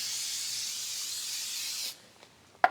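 Aerosol can of prep solvent sprayed onto a car body panel during rust repair: a steady, close hiss for about two seconds, then a stop, a faint tap and a short sharp click.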